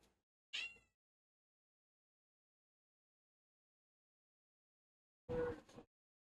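A cat meows twice, a short high call and then a louder, longer one several seconds later, each alone against silence.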